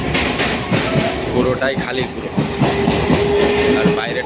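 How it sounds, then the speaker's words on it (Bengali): A Bongaon–Sealdah local train runs with a steady loud rumble and rhythmic clatter from inside a nearly empty last coach at night, while someone talks over it. "ট্রেনটা দেখতে পাচ্ছ 10:40 ট্রেন, বনগাঁ শিয়ালদা লোকাল"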